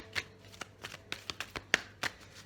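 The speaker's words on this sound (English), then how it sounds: "I don't want to shuffle too fast," Tarot cards shuffled by hand at close range, a quick irregular series of crisp riffling flicks and soft slaps, roughly a dozen bursts.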